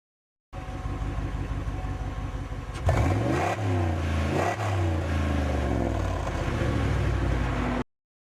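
An Oldsmobile Aurora's V8 engine rumbles at a steady roar, then blips its throttle in sharp revs around the middle, the exhaust note rising and falling loudly up close.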